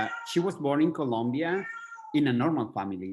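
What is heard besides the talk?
cats meowing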